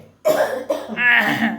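A person coughs close up, several harsh throaty bursts in quick succession, after tasting a home remedy of small onion and jaggery meant to ease a cough.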